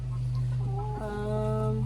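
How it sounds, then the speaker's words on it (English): A rooster's clucking call over a steady low background hum on a farm, brief and moderately near, no talking. "But there's a lot of pretty roosters."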